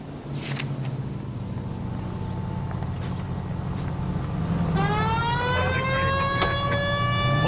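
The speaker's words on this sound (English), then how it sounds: "We have a siren." In L.A. Noire, a 1940s police car siren starts wailing partway through, its rising tone loud over steady engine drone and road noise.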